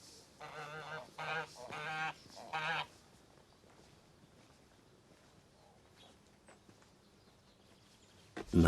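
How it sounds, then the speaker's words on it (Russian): Several geese honk loudly in a short, close series of calls at a rural homestead in Kazakhstan, followed by a quiet stretch of faint background sounds. "Нас встречают гуси."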